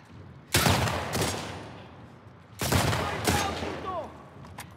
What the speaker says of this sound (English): Why am I even shooting? I don't want to shoot Tommy.